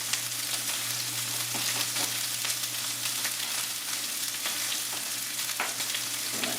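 Steady, dense sizzling of steak frying in a very hot pan, with crackles and pops throughout and no voices.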